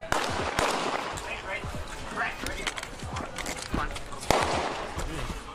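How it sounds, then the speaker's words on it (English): Rapid sharp gunfire bangs crackle through an outdoor crowd at George Floyd Square in Minneapolis, some near and loud, others farther off, over a background of voices. "there were a lot of gunfire at this situation here"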